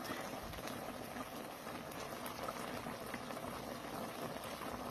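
Beef bulalo soup boils hard in a pot, a steady, dense bubbling roar that holds evenly and close throughout.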